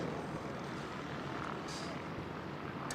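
A small camera drone hovers and flies close by outdoors, its propellers giving off a steady, even whir that holds at a constant level throughout, with no talking.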